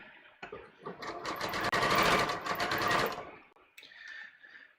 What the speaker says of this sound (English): So this row of stitching that I'm doing right now is going to show on the wrong side